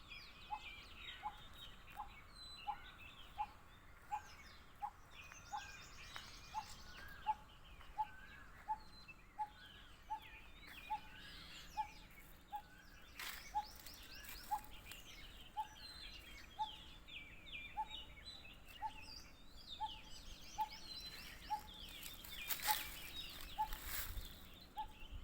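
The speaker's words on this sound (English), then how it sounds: "Let's listen to the birds." Birds chirp and sing outdoors in Gujarat in the morning, with a steady, evenly spaced repeating call about twice per second and scattered fainter chirps and trills in the background, all quiet and fairly distant.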